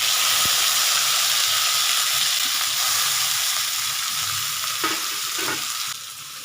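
Chopped tomato goes into a pan of frying potatoes for a vegetarian aloo dum, setting off a loud, steady sizzle and hiss that fades slightly toward the end, with a few soft stirring clinks and no voices.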